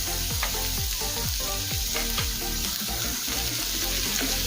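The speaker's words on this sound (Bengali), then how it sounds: "কুড়ি 30 সেকেন্ড সময় নিয়ে পেঁয়াজ আর ক্যাপসিকাম ভেজে নেব।" Onion and capsicum frying in hot oil, a steady loud sizzle with repeated scraping stir strokes in a regular rhythm, close up and without talk.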